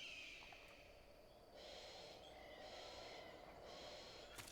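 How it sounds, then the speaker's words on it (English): Enemy soldier breathing in Metal Gear Solid 3, heard as three slow, raspy breath swells over a low ambient game hum, quiet and close. "You might hear his breathing."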